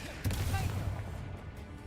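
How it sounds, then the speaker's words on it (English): An Incendio fire spell cast in a Harry Potter video game bursts with a heavy low whoosh and crackling roar that sustains for about a second before trailing off. "Incendio."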